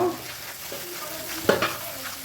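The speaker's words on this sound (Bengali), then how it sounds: "এবার আমি দিয়ে দেবো কাজু বাদাম। কাজু বাদামটা ভালো করে কষে নেব।" Cashew nuts frying in oil with ginger paste for a cauliflower roast, a close, steady sizzle with soft stirring scrapes and a couple of brief utensil clinks near the end.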